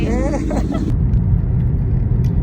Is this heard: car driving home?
yes